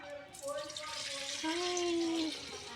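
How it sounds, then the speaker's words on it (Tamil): Water poured into a cooking pot on the stove for boiling broad beans, a steady filling stream whose pitch rises as the pot fills, close and fairly loud for about three seconds. "தண்ணி ஊற்றிக்கலாம்"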